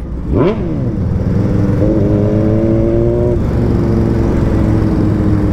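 A Honda CBR600RR or Hornet 600 motorcycle on the road from Kathmandu to Pokhara revs sharply once, then settles into a loud, steady engine drone with shifting tone, close by and with no talking.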